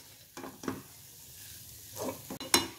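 Vegetables for batata vada are tossed and sautéed in a pan over a medium flame, with a few short scraping stirs and a faint sizzle close by, separated by quiet gaps.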